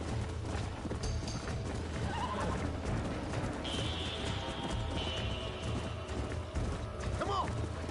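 Horses in the video game Red Dead Redemption clip-clop and snort amid game ambience, with a whinny near the end, under a low steady background of music and effects.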